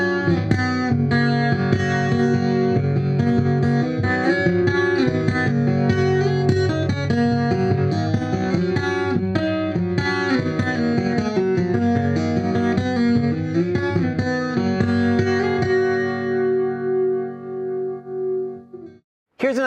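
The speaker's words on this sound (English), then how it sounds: "it's a chorus preset, and it's really nice because it really thickens up the acoustic sound." Strummed acoustic guitar through a Hartke AC150 amp with a chorus preset, chords shimmering and thickened, played continuously before ringing out and fading near the end.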